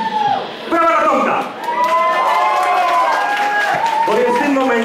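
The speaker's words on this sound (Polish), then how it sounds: "Brawa na Tomka!" Audience applause and cheering at a live stage show, a loud sustained wash of clapping mixed with shouts and voices from a packed crowd, with talk running through it.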